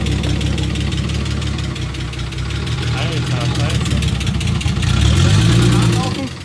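A VW Golf Thunderbunny engine idles while warming up for its first run, a steady low rumble under ongoing conversation between people nearby.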